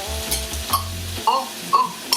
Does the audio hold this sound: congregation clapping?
no